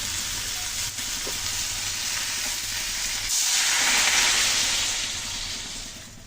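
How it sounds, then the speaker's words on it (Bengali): Water poured into a hot pan of sautéed bottle gourd and potatoes sets off a steady, loud sizzle and hiss that swells midway, then eases slightly toward the end, with no voices. "এখন আমি জল দিয়ে দিচ্ছি।"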